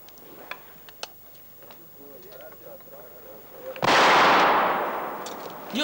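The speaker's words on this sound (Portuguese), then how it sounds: "Primeiro temos de experimentar os canhões, para termos a certeza de que funcionam" In an animated film, faint voices and small ticking sounds give way to a single loud pirate-ship cannon boom that rolls off slowly.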